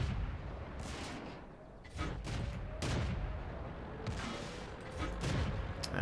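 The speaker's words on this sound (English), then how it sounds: "I'm just firing shots just to fire shots at this point" Tank cannons fire in the World of Tanks game, with several sharp booming shots spread across a few seconds, each a broad burst over constant rumbling battle noise.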